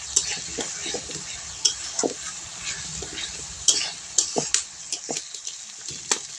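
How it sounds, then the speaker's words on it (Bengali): A spice paste with coriander powder and dried red chili powder fries in a pan as it is stirred. Soft sizzling runs under repeated sharp scrapes and clinks of the utensil against the pan, nearby and without talk. "সব কিছু দিয়ে মশলাটা ভালো করে আমি কষিয়ে নেব।"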